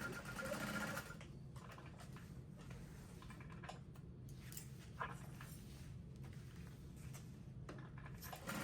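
A sewing machine runs steadily, stitching a second row of topstitching along a curved seam of a fabric handbag. The needle chatters close and even at a constant pace from start to finish with no break.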